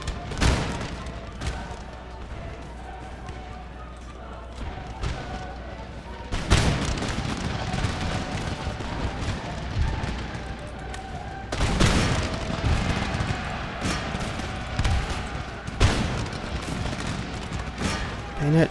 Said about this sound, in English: More canister shot going out from our tree of death back here